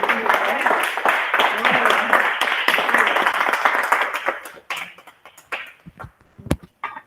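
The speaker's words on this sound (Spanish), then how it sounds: "Un aplauso para la compañera nuevamente." Audience applause after a talk at a history and memory workshop in Río Cuarto, a dense loud burst of many hands that thins after about four seconds into a few scattered claps, with voices underneath.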